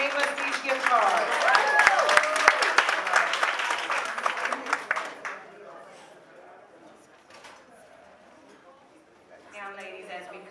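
A room full of women claps for Black businesses that donated gift cards. The loud applause with scattered voices lasts about five seconds, then dies down to quiet chatter and movement.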